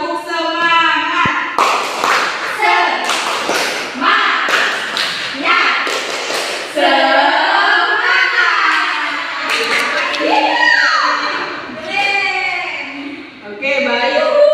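Schoolchildren and a teacher perform a rhythmic clapping chant in a classroom lesson, with bursts of sharp claps and taps interleaved with loud sung and spoken voices.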